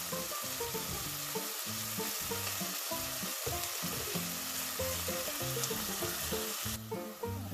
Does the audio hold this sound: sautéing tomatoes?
yes